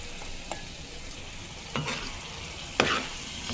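Leftover bitter gourd fry reheats in a pan on a stove with a soft steady sizzle, punctuated by a few sharp scraping stirs.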